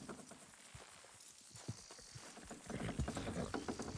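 Horses in Red Dead Redemption plod and strain while pulling, a faint run of clip-clopping hooves that grows denser and louder toward the end, with no talk.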